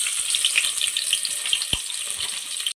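Chopped onion goes into hot oil with cardamom and cinnamon for biryani, producing a steady, close sizzling hiss throughout, with one brief knock near the end.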